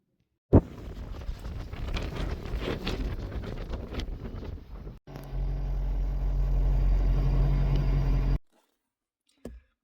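Strong desert wind in Arizona's White Tank Mountains buffets the microphone in heavy, roaring gusts, loudest in a steady blast near the end, then cuts off abruptly.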